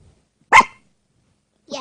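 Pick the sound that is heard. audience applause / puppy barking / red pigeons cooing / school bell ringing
puppy barking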